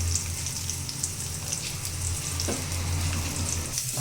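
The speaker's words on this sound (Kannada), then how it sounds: "ಈರುಳ್ಳಿನ ಸ್ವಲ್ಪ ಚೆನ್ನಾಗಿ ಸಾಫ್ಟ್ ಆಗೋ ಥರ ಫ್ರೈ ಮಾಡ್ಕೋಬೇಕು" Onions and green chillies frying in oil for a coconut palya, a steady close sizzle with a low crackling bed and a brief stir or spatula scrape partway through.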